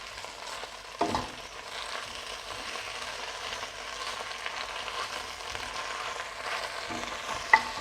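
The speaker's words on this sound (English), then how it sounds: "Giving that a stir." Fresh spinach is stirred in a sizzling frying pan, giving a steady close crackle with a spoon scrape and a small clink near the end.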